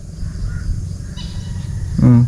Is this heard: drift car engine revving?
no